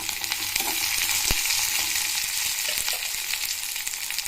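Mustard seeds and onions frying in hot oil, a steady close hiss and crackle with occasional sharper pops, no voices.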